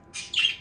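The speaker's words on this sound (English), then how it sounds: "There's another bird." An African grey parrot gives a single short, loud call, a bright whistled squawk rising in the middle, close by and alone.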